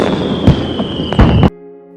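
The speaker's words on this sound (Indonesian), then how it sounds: "suara kembang api jauh lebih kencang" Fireworks bursting during a night festival, a steady crackling barrage with two louder bangs, loud and close, cutting off abruptly into a faint hum.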